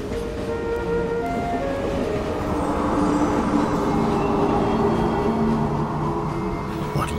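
Steady rumbling video game train noise with a continuous low roar and faint rattling, loud and sustained throughout with no talking.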